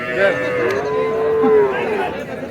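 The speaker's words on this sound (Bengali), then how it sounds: "এই যে দেখেন এখানে কিন্তু মোটামুটি সাইজের বেশ কিছু গরু আছে দেখেন" A single long, loud bovine moo from close by at Hazratpur Cattle Market, where sacrificial cattle are sold before Eid. The call rises and falls over faint background crowd noise.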